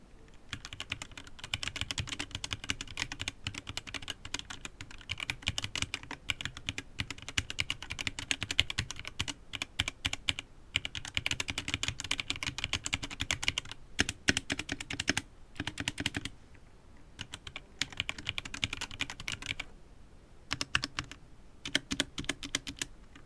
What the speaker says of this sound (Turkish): O zaman ben size klavyenin bir sesini dinleteyim. Bir yazı yazayım.